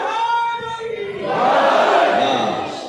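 A large gathering at a Muharram majlis shouts a religious slogan in unison, a loud, swelling collective roar that peaks in the middle and then tapers off, with no single voice standing out.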